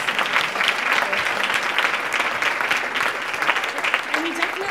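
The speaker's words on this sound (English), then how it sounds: "Maybe another round of applause for it." Sustained applause from an audience at an entrepreneurship talk, a dense, steady clapping wash holding at an even level throughout, with faint voices mixed into the crowd noise.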